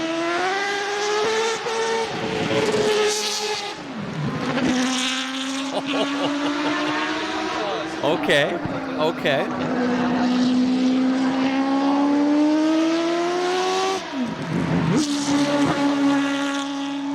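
A Mazda 787B four-rotor rotary race car engine screams loud and close, revving through high, buzzy pitch sweeps with sharp drops and climbs on shifts, running continuously throughout; a single brief spoken word comes at the start.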